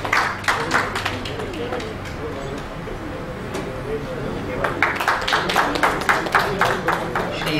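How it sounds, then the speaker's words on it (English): Conference audience clapping for speakers at a government technology event, bursts of applause early and again toward the end, with a quieter stretch of murmuring in between. "A round of applause for our speakers."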